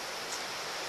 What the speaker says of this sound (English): right on the beautiful Housatonic River. This is what I'll hear tonight while I'm sleeping